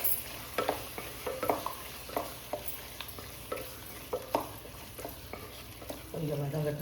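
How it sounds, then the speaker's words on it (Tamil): Chicken stir-frying in a pan, with repeated spatula scrapes and taps over a low, steady sizzle, up close. "கொஞ்சம் வதங்கட்டும் சிக்கனும்"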